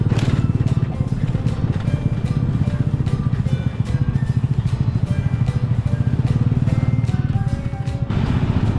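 A motorcycle rickshaw putters along a street in Yogyakarta, its engine a fast, rhythmic chugging that stays close and loud and eases off briefly near the end.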